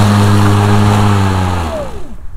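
A Ryobi 40V battery electric self-propelled 20-inch lawn mower cutting wet grass, giving a loud steady motor hum with strong low harmonics that winds down and fades near the end, no talking.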